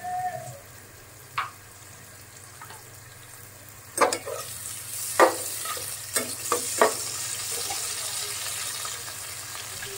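Onions frying in a pan give a steady, soft sizzle beneath a low hum. A few sharp scrapes and clinks of stirring rise above it now and then.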